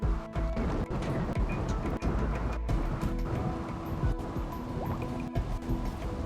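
Water is poured and then sipped, giving a close, steady run of drips, splashes and gurgles that carries on for several seconds with no talking.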